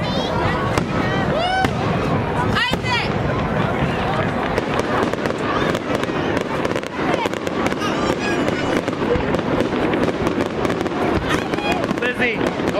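Fireworks burst continuously outdoors, dense crackling and popping with whistling streaks and booms, loud and unbroken throughout, while a crowd's voices and chatter mix in underneath.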